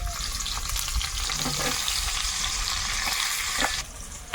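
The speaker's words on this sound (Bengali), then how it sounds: "পেঁয়াজটা একটু ভেজে নিয়েছি" Chopped onions sizzle and crackle steadily in hot oil in a home kitchen, close and fairly loud, with occasional stirring clicks and a few soft knocks, and no voices.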